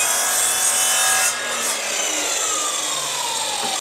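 A hand saw cuts through wood while building a double-bottle wine bottle holder, making steady close rasping strokes that ease off partway through.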